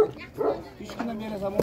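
Shepherd dogs bark and yip in short, sharp bursts at an animal bazaar, a few scattered barks and whimpers heard near, mixed with crowd chatter and people talking over them.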